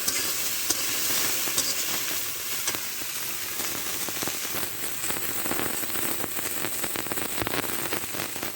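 Vegetables frying in a pan on low heat for a thin curry of green banana, taro and soybean chunks, giving a steady, close sizzle with faint crackles and occasional stirring scrapes throughout.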